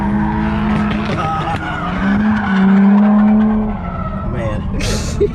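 A car drifting at a drift event, its tires skidding and squealing over a steady, loud engine drone for about five seconds, with voices and excited chatter mixed in.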